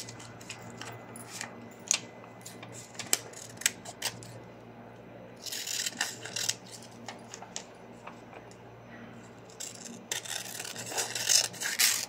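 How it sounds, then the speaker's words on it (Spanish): Scissors cut out a paper sewing pattern for a short vest with a sport collar, giving close snipping ticks and longer rustling paper slides in bursts, with no talk. "Luego vamos a cortar por aquí. Luego vamos a cortar por acá."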